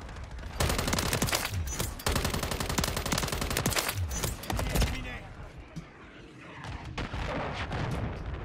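Dense bursts of automatic gunfire from a video game shooter played with the BAS-P class, loud and close, in rapid rattling volleys with brief gaps, while a voice talks over it.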